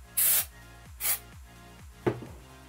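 Two short, sharp hissing bursts from a spray bottle onto hair, close and fairly quiet, followed by a soft rustle.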